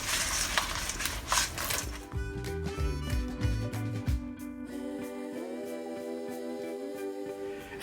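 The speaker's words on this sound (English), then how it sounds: "The trick to having crispy pork is to up the heat to the sauce, put the pork in, and toss quickly." Pork tossed in hot honey sauce in a pan over high heat, a loud sizzle and stirring scrape at first, then clinks and taps of utensils against cookware with a ringing tone.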